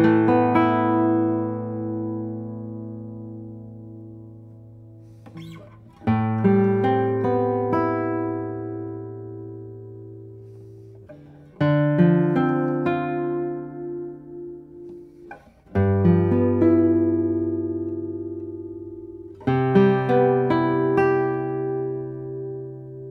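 A 200-year-old guitar rings out in a series of bright, sustained strummed chords, each struck sharply and left to decay, clear and close with no talking.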